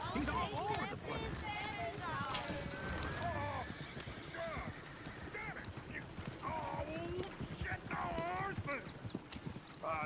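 Steady clip-clop of horse hooves from Red Dead Redemption 2 on PS5, with an occasional whinny, runs throughout under nearly continuous conversation between characters.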